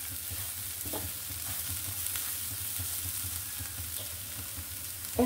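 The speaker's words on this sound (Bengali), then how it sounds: "একদম ডালটা একদম ঝরঝরে ভাজা হয়ে গেছে।" Lentils for a vegetarian dal frying dry in a pan, a low steady sizzle with a few scattered scrapes of stirring and a louder clink at the very end.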